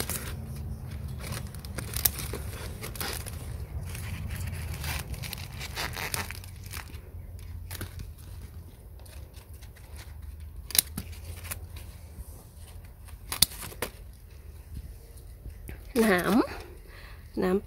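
Scissors snip parts off an eggplant plant grown in a sack, with sharp clipping cuts scattered through the clip along with leaf rustling and handling noise as someone talks quietly.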